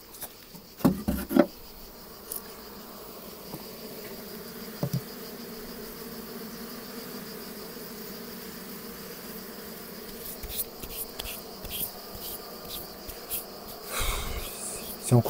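Honey bees swarm and buzz steadily at an open hive during an inspection, a dense close drone that holds throughout, broken by a few sharp knocks and handling clatters from the hive frames.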